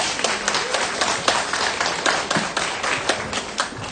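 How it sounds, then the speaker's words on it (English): A live audience at a Charlotte Tilbury makeup event claps in a brisk burst of individual claps that are close and fairly loud, with no speech over the clapping. "Can we give a clap for the girls?"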